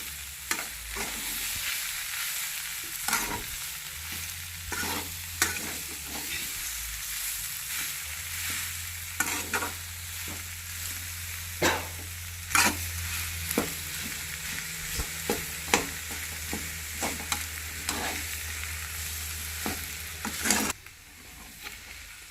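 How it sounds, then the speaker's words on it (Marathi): Potatoes for a quick Maharashtrian potato bhaji sauté in a pan over lowered heat, giving a steady sizzle broken by repeated scraping, stirring strokes and sharp spoon knocks throughout, close and clear with no talking. "आणि बटाटा जो आहे आपला चांगला परतून घ्यायचा"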